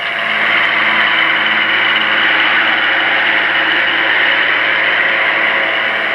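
A Ford 6000 series large agricultural tractor engine runs loud and steady with a constant droning hum and faint vibration, heard alone without talk.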